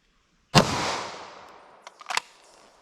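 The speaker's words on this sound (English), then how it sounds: "let's hit it with our 40 Smith & Wesson" A single sharp, loud shot from a .40 Smith & Wesson pistol, ringing and decaying over about a second outdoors, followed by a few faint clicks and rattles.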